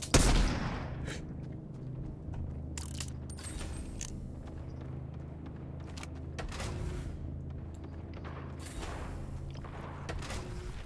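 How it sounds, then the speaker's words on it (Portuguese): Shotgun fire in the Fortnite video game: scattered sharp blasts and clicks over a steady low game hum, moderately loud, with no talk. "Eu não consigo perceber como é que estes gajos acertam os tiros todos de shotgun."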